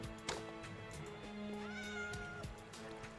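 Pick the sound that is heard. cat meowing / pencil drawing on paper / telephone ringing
cat meowing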